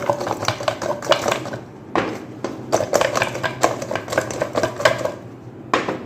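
Ingredients being shaken inside a covered metal strainer, giving busy rattling and clattering in rapid bursts with two brief pauses, close and fairly loud.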